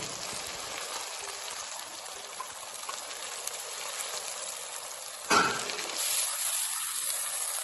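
Potatoes, tomatoes and onions fry gently in a pan, a faint, steady hiss that keeps going, then a sudden louder burst of sizzle that swells and settles again, with no talking.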